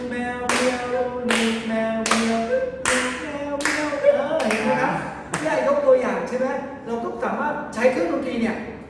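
Hands clap in a steady beat while a voice sings along in Thai during a children's singing activity, the claps sharp and close, roughly one each half second, joined by tapping.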